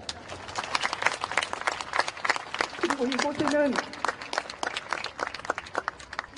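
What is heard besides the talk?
audience applause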